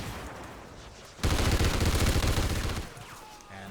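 A sudden sustained burst of automatic gunfire in Call of Duty Ghosts, loud and close for about a second and a half, set against quieter background game noise.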